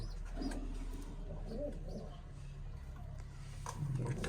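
Pigeons coo softly in a low, steady murmur over a constant background hum, with a few faint bird calls mixed in.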